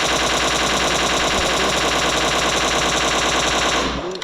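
Automatic rifle spray fire through a 6x scope in PUBG Mobile, a loud, unbroken rapid stream of gunshots sustained for several seconds before cutting off.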